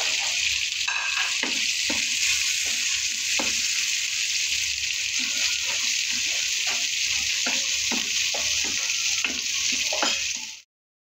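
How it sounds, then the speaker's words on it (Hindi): Steady loud sizzling of onions frying in a pan, with scattered scraping and clinking of a utensil stirring throughout, no voices. "अब मैंने वो ही प्याज इसमें डाले हैं और इसको भी अच्छे से मिक्स करना है"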